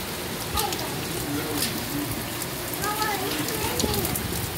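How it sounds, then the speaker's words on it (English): Steady rain falls outdoors after a barbecue, a continuous broadband hiss of drops on surfaces that persists throughout with no talking. "and then all of a sudden the rain."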